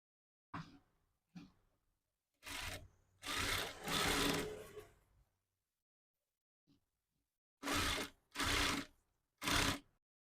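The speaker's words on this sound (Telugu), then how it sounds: "ఇలా బ్యాక్ పార్ట్ని స్టిచ్ చేసుకోవడం కంప్లీట్ అయిపోయింది." A sewing machine stitches the back part of a size 34 blouse in short separate bursts of rapid whirring, with silent pauses between runs, close and clear.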